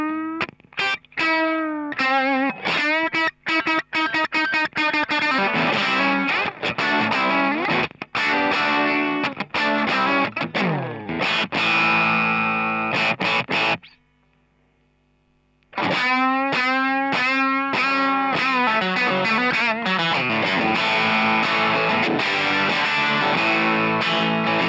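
Distorted electric guitar through a BluGuitar Blubox into a cranked vintage Fender Champ amp plays loud, gritty riffs and chords, stops in a brief near-silent gap, then resumes.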